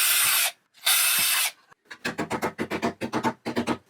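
Holes are drilled in sheet metal, with two long hissing bursts followed by a run of rapid, grinding pulses from the drill, loud and close, with no talking.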